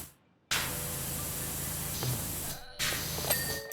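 A pressure washer sprays in the video game Powerwash Simulator: a loud, steady broadband hiss that starts suddenly, runs for about two seconds, breaks off briefly and then starts again.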